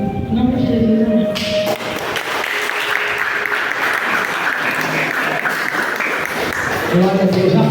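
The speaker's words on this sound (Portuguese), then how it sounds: "Aplauda mais forte ao Senhor" A church congregation claps loudly and continuously for several seconds, dense rapid hand claps filling the room, with voices audible around it.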